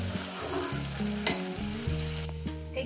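Spices for a Bengali parshe fish curry with potatoes sautéed over low heat in a pan, a spatula stirring and scraping in steady strokes over continuous close sizzling, with no talking.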